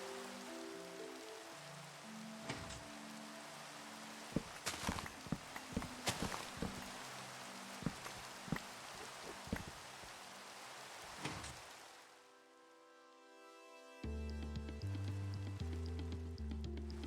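Rain falls steadily in Minecraft GregTech: New Horizons, a soft hiss with repeated light footstep-like taps and clicks, then game music enters near the end.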